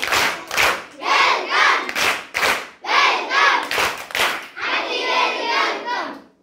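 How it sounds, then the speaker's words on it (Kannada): An audience at a high school event in Kuntoji gives guests a welcoming round of applause, loud rhythmic bursts of clapping mixed with shouted cheers, ending in a sustained burst of clapping. "ಇವ್ರು ಎಲ್ಲರಿಗೂ ನಾವೆಲ್ಲರೂ ಸಹ ಗೌರವಪೂರ್ವಕವಾಗಿ ವೆಲ್ಕಮ್ ಚಪ್ಪಾಳೆ ತಟ್ಟನ"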